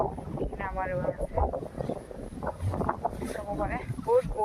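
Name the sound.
strong wind blowing in an open field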